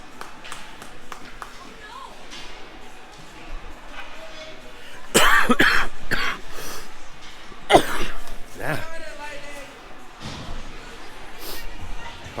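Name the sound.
coughing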